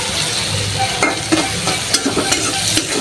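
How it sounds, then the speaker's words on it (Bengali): Onions fry in hot oil with bay leaf, cinnamon and cardamom to make birista, a dense steady sizzle up close broken by soft scraping knocks of stirring. "আর এই যে এটা পেঁয়াজ বেরেস্তা বানাই নিতেছি আমি"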